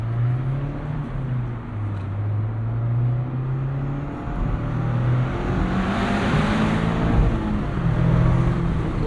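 A 2024 Mazda MX-5 Miata ND3 engine climbs through the revs toward a 7,200 RPM redline inside a tunnel, a loud droning note rising and dipping with shifts, echoing close around the car.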